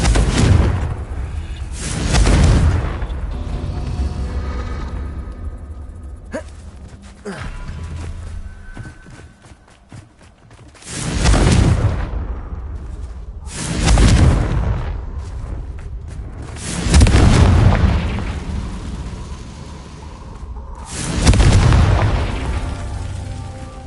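Repeated explosions from the Confringo spell in a Harry Potter video game, several deep booming blasts a few seconds apart, each swelling and fading, with game sounds between them.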